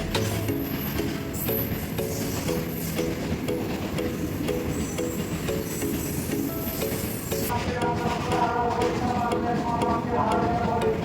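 A train at a railway station: a steady mechanical rumble and humming tones fill the platform, with a brighter wash of sound toward the end and people talking throughout.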